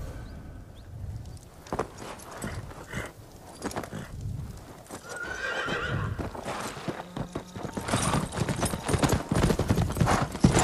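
Horse hooves clip-clopping with loud neighs and whinnies from a horse in the video game Ghost of Tsushima, the hoofbeats irregular and close, building louder toward the end.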